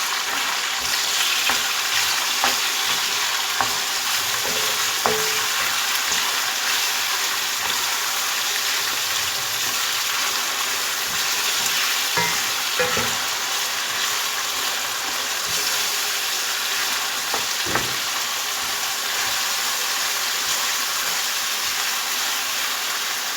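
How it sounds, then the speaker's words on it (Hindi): Minced meat (keema) frying steadily in a pan, a continuous close hiss and sizzle with occasional scraping clicks of stirring throughout. "अब कीमे को मैं अच्छी तरह से भून लूंगी"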